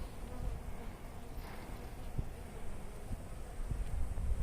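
Honeybees hum steadily around an open hive with brood, pollen and nectar-filled comb, a dense close buzz running throughout with a few brief knocks and handling bumps.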